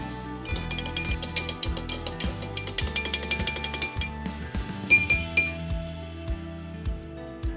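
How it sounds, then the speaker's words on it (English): A spoon stirs honey into freshly strained hibiscus tea with ginger, clove and orange zest in a glass, making a fast run of bright, close clinks that slows to a few scattered taps. "So we're going to strain it into our glass and add honey. Add a generous squeeze of honey and stir well."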